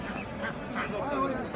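Ducks quack nearby amid a crowded poultry market bustle in Kırıkkale, with people talking in the background.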